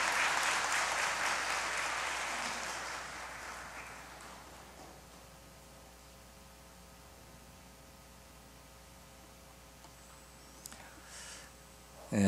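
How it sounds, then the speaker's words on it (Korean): A crowd at a community charity event applauds for a few seconds, then the clapping fades away, leaving a low mains hum and quiet room noise before a brief bump at the end. "지금 우리 감사와 큰 격려로 박수 한번 보내주시겠습니다"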